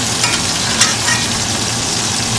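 Butter sizzles hard around a ribeye roast on the grill as it is basted, a loud, dense, continuous hiss close up with a couple of faint clicks.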